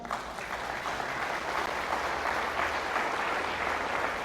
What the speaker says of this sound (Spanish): ¿Le puede dar ese aplauso al Señor?